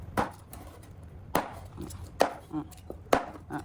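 A knife chops through crispy pork on a board in four sharp, loud thwacks spaced about a second apart, with softer knocks and shuffling between them.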